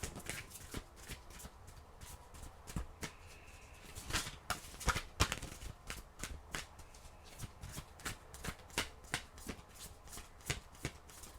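Oracle cards shuffled close up in a quiet room, a run of crisp riffling slaps and flutters with sharper bursts in the middle, no talking.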